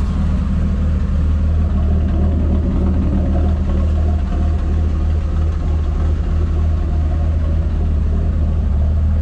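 A 1973 Ford F-100 4x4 pickup truck idles steadily with a deep, low exhaust rumble, continuous and close throughout, with no voices.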